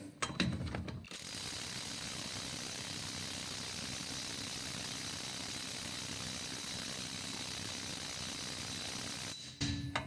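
A PATUOPRO 500NM cordless impact wrench works on car wheel bolts, giving a dense continuous rattling hammer that runs steadily for about eight seconds between short quiet moments, close and loud.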